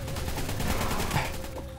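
Rapid gunfire in the ARK Aberration video game, a steady stream of repeated shots heard loud and continuous for the whole moment.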